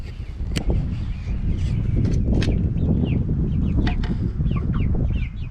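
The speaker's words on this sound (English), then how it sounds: "this is the first group of chickens that we hatched out" A young flock of hatched chickens clucks and chirps up close in a pen, steady overlapping calls with a few sharper peeps and light rustling, no talking.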